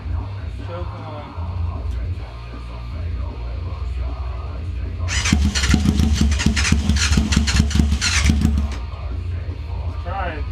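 A Yamaha FZR600 motorcycle that sat unused for over fifteen years, with choke on, fires up partway through after a quiet stretch with faint voices, running roughly with rapid pulsing for a few seconds before dying away.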